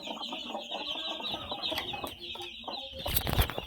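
A hen that has just hatched chicks clucks steadily in a farmyard, with a high thin peeping running throughout and brief rustles and flapping near the end.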